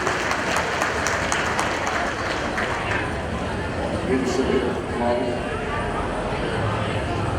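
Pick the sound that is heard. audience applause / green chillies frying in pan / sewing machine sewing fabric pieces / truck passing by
audience applause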